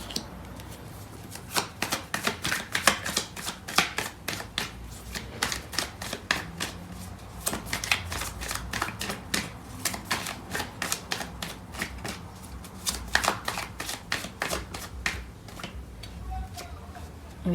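Tarot cards shuffled by hand in rapid riffling bursts, a dense stream of crisp close clicks and flutters repeating steadily throughout with only brief pauses.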